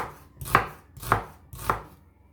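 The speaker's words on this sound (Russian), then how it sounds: "Лук нарезаю тонкими полукольцами." Three evenly spaced knife chops slicing onion into thin half-rings on a cutting board, crisp and close, each a sharp thud with a short ring.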